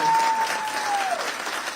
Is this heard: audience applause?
yes